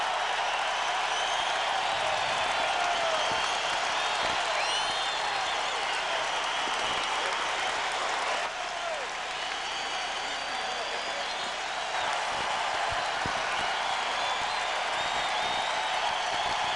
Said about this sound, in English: Fans still applauding the effort of the Pacers